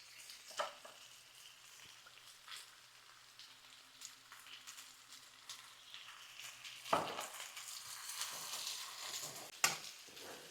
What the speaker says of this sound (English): Kind of sear it in there so that we lock in the flavor.